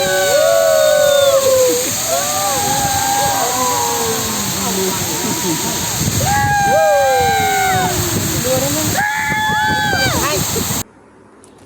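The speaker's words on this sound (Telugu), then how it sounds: "దగ్గర తీసుకెళ్తున్న కొద్దీ వాటర్ అయితే మీద పడుతున్నాయి అన్నమాట" Near the Chitrakote waterfall in India, water roars and sloshes around a boat as spray falls on board, while people shout and scream excitedly over the steady rushing noise.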